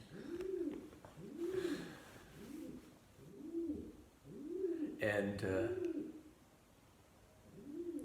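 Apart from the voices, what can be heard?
dove or pigeon cooing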